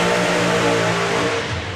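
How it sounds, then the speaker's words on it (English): A Street Eliminator drag racing car pulls away after burnouts at a drag racing festival, a loud, steady engine roar with a sustained tone that fades slightly at the end. "Top Speed Automotive Street Eliminator Cruise leaving."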